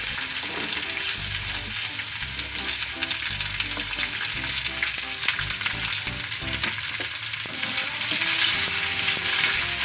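Chopped onions and chana dal sauté in a hot pan with a loud, steady sizzle and occasional stirring scrapes running throughout, close and with no talking.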